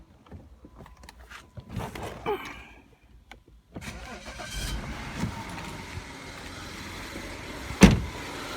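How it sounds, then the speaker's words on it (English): 2008 BMW 535i engine cranking and catching after a water pump replacement, preceded by faint clicks and followed by a steady idle with a sharp knock near the end. "Let's fire it up and see if there's any leaks."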